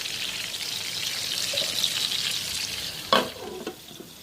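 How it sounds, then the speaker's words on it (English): Stuffed brinjal cooking in oil under a lid, Andhra style, a steady moderate sizzle with a sudden clatter near the end as the pan or lid is handled. "The brinjal cooked in the oil."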